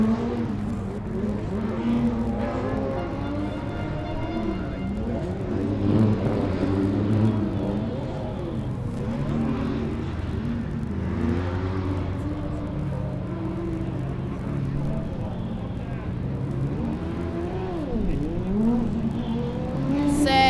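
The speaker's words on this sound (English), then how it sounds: "Car number 69 are back out for their second lap" A Formula Student race car from the UAS Hamburg team runs an autocross lap at Formula Student Germany 2012, its engine revving up and down continuously through gear changes and corners, loud and sustained throughout.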